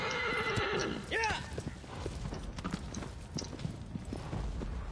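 A horse in the video game Shadow of the Colossus gives a clear whinny near the start, followed by steady clip-clop hoofbeats and rustling, with game ambience continuing.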